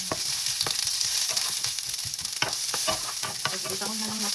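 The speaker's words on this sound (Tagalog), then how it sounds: "So, itahon na lang nato yung sila hangtod ang onion maluto-luto na sad." Onion fries in a pan with garlic while ampalaya with egg is prepared, giving a steady close sizzle broken by irregular scraping and stirring clicks, with no talking.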